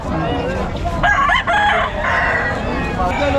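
A rooster crows loudly and close at a chicken market in Hulong Duhat, Malabon, a drawn-out cock-a-doodle-doo over a noisy outdoor background of clucking chickens and murmuring voices.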